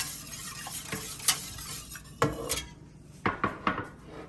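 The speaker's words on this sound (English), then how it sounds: "Gonna whisk those together." Two eggs are whisked into milk in a bowl for homemade tapioca pudding, with irregular clinks and taps of the whisk against the bowl over a quiet background.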